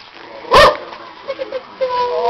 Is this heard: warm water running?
no